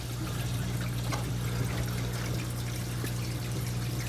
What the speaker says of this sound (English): it's time to get that filter running